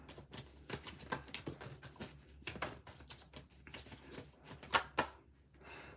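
Tarot cards shuffled by hand during a live reading, a faint, close patter of rapid papery riffles and taps with no talking.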